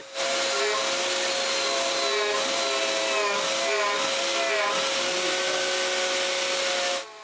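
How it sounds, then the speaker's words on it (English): Cutting out the second side of a wooden mortise in a big door frame, a loud continuous whining machine drone with steady tonal hum that holds throughout and stops at the end. "I cut the other side of the mortise to enlarge it."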